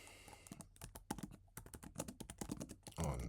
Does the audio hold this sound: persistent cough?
no